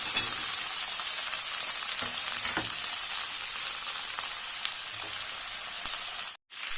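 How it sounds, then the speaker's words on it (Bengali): Chunks of papaya, banana and pointed gourd fry in a pan with a loud, continuous close-up sizzle and occasional soft stirring scrapes, with no talking. "সবজিগুলো এবার ভেজে নেব কিছু সময় নিয়ে।"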